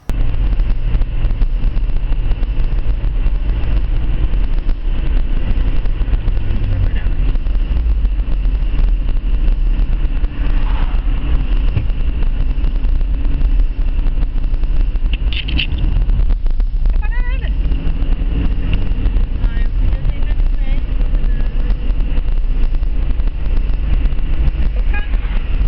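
A 1929 Chevrolet drives on the street, a loud low engine rumble buffeted by heavy wind noise, with someone speaking over it.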